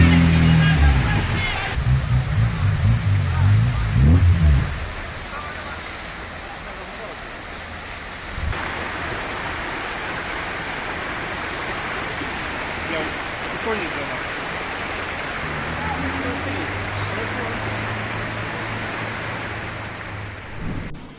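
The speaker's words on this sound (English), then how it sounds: "Would you step onto a road once it's turned into a fast-moving stream like this?" Floodwater rushes like a fast stream across a road in southern Morocco, a steady broadband roar of churning water throughout, with a few low thumps and talk near the start.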